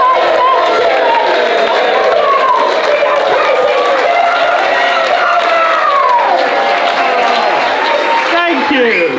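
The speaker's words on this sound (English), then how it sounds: "Start that applause for me nice and gently, not too much. A gentle ripple, and then it builds a little bit, and this side of the room starts cheering." A large audience at a ukulele weekend show claps and cheers in a dense, continuous roar with whoops, sustained loudly throughout and filling the room.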